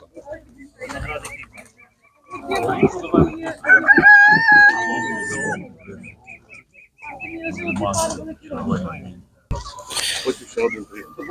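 Chickens clucking and a rooster crowing nearby, mixed with people talking in a busy outdoor animal market.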